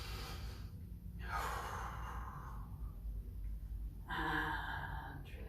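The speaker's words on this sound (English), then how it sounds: "Using the breath to cool." During a yoga and qi gong class, a cooling breath exercise produces slow, close, audible breaths, with soft airy inhales and exhales repeating alone at a steady pace.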